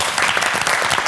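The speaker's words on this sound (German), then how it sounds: "Und dieser frenetische Applaus, der gleich folgt, sagt nichts anderes." Loud, steady applause from a TV talk show studio audience, dense clapping throughout with no voices.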